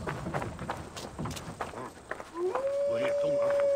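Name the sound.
dog howling in video game Assassin's Creed Valhalla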